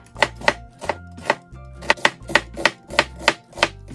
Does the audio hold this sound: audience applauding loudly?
no